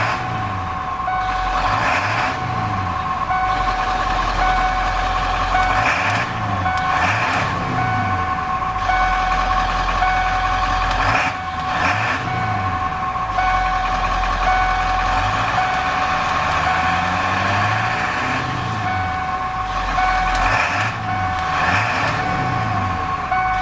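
A 1994 Ford F-150 XLT pickup's V8 exhaust idles steadily and loud throughout, with a low rumble and a repeating high electronic tone over it.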